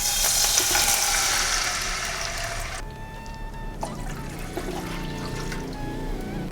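Water bubbling in an oiled pan while making Thiruvathirai kali, loud at first then settling into a softer simmer with occasional pops and clinks.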